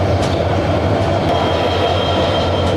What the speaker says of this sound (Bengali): এই আমাদের ট্রেন সামনের দিকে এগিয়ে যাচ্ছে